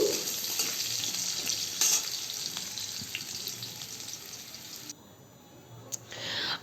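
Potatoes fry in oil in a pan, a steady close sizzle with faint stirring scrapes. The sizzle drops briefly near the end, then comes back.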